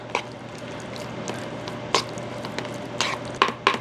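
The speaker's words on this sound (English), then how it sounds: "I'm just going to give this a really good mix" Stuffed shells filling of ricotta cheese and egg mixed in a bowl, giving soft wet squishing and stirring sounds with a few sharper clicks of the utensil, close and moderately quiet, no talking.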